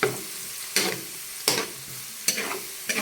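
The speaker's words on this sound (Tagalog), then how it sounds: "Magigisa na po tayo. Ayan na, ilagay na po natin ating bawang at saka sibuyas." Chopped garlic and onion sautéing in a pan for a home-cooked snack, with four distinct spatula scrapes at a steady pace over a quiet background sizzle.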